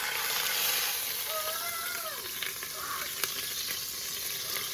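Beef frying in a pan while being turned, a loud, dense, continuous sizzle with a few scraping and clinking touches from the turning, heard up close without speech.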